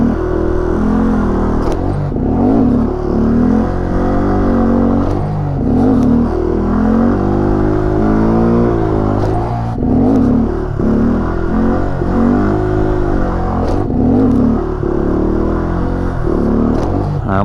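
A car engine revs in a stunt lot during foot-brake practice, close and loud, with its pitch climbing and falling in repeated surges roughly every four seconds over a constant drone.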